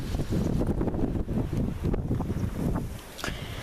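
Strong gusting wind during storm Freya, roaring and buffeting a microphone outdoors at home, loud and continuous with rushing low-end turbulence throughout.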